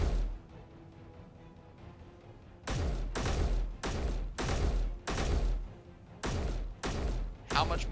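Rifle emptying a full magazine into a block in the Space Engineers video game, heard as loud, close bursts of gunfire in about seven rapid volleys with short gaps between them, following a couple of seconds of quiet.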